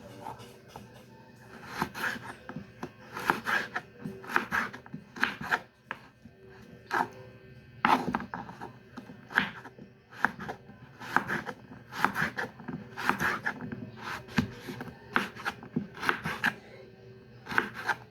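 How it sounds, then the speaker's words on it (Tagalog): A knife chops carrots for macaroni sopas, cutting in steady repeated strokes against a board, close and moderately loud, with low background noise and no talking. "maghihiwa muna ng carrots"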